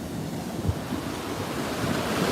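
Ocean surf and wind at Montara State Beach on the California coast, a steady broadband roar of breaking waves with gusting wind buffeting the microphone, continuous and fairly loud with no voices.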